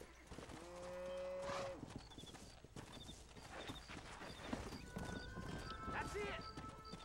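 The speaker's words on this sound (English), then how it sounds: "Cattle wrangling." Cattle wrangling on horseback in the video game Red Dead Redemption: steady hoofbeats and low cattle moos, with a horse whinny, under voices talking.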